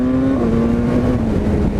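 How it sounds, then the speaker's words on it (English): BMW S1000R motorcycle engine pulling hard under acceleration, a loud, steady high-revving drone with a slight dip in pitch midway, close and continuous with wind noise, no talking. "let's test out the quick shifter."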